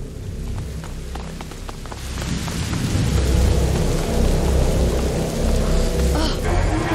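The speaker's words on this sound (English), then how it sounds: "Did you see that? The lightning bolt." Rumbling thunder builds under steady heavy rain during a storm in the video game A Plague Tale: Innocence, a dense, loud roar that swells and holds without any speech.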